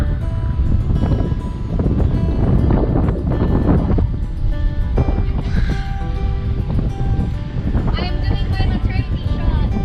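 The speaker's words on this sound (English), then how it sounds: "It's very windy." Strong wind buffets the microphone in a steady, loud roar on the coast at Bacong, with faint bird calls and distant sounds barely poking through.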